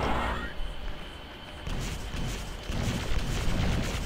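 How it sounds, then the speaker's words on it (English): Rumbling Pyro Cannon blasts in the game Stronghold: On the Edge of Chaos, a quiet, sustained low roar that swells in two stages after a brief opening burst, with no talk. "The Pyro Cannon is like a mini nuke."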